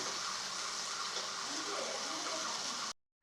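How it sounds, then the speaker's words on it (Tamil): Dried fish (karuvadu) being rinsed in a bowl of warm water, a steady close splashing and sloshing that runs unbroken for about three seconds, then stops abruptly into silence. "கருவாடை இதில் போட்டு லைட்டாக அலசி எடுத்துக்குருவோம்."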